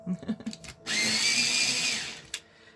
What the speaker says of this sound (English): A little bit of sharpening.